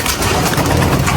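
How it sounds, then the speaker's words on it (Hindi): A pigeon cooing close by, one brief soft warbling coo over a noisy background. "एक ये कबूतर रात रह गया था"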